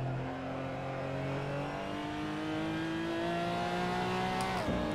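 A Porsche GT4 in the sim racing game Assetto Corsa at Laguna Seca, its engine revving loud and close and climbing steadily in pitch before dropping sharply on a gear change near the end.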